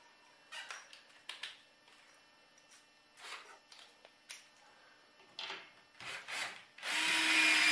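A power drill whirs in a series of short bursts, biting into a wood stud while installing a pull-up bar, then ends with a loud sustained grinding whine.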